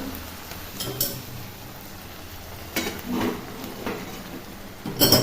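Boiled ghugni (chickpea curry) cooked with goat fat being stirred in a kadai, quiet sizzling underneath with a few distinct spoon scrapes and clinks against the pan, the loudest near the end.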